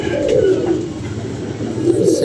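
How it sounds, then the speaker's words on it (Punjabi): Pigeons coo repeatedly and close by in a plain backyard loft, their soft throaty calls rising and falling under a steady hum of background noise. "ਇਹ ਇੱਕ ਸਾਦਾ ਜਿਹਾ ਵਿੱਚ ਕਬੂਤਰ ਹੈ"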